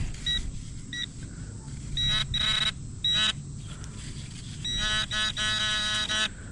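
A metal detector sounds off over a target at an old Louisiana river park where concrete lies in the ground, giving clear repeated electronic tones in short bursts and then a longer run of beeps over a low background rumble.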